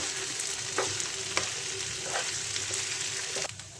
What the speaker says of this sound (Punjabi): ਇਧਰ ਚੌਲਾਂ ਨੂੰ ਪਾ ਦਾਂਗੇ ਜੀ ਇਹਨਾਂ ਮਟਰਾਂ ਦੇ ਵਿੱਚ ਕੜਛੀ ਨਾਲ ਹੁਣ ਆਪਾਂ ਇਹਨੂੰ ਹਿਲਾ ਦਾਂਗੇ